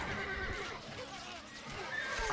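A horse neighs in the medieval strategy game Stronghold Crusader HD. A drawn-out whinny is heard alongside faint hoof clip-clop and in-game ambience.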